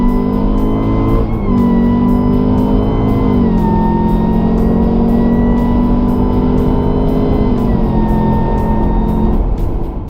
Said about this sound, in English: Car sounds fantastic, no cabin drone